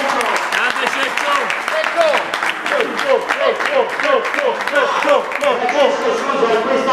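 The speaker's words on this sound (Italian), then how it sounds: "Un applauso anche a Francesco" Applause at a veterans' football gathering, honoring a player named Francesco: steady clapping from a nearby crowd over about seven seconds, with voices talking and cheering over it.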